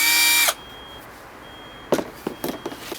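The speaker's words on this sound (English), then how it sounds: "The Gatling gun is powered with the use of a battery operated hand drill." A battery-powered hand drill spins the six copper-pipe barrels of a homemade steampunk prop Gatling gun in a short, loud, close whir that stops abruptly, followed by several light clicks and knocks.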